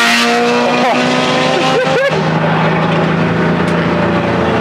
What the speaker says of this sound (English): We're gonna let the Ferrari pass.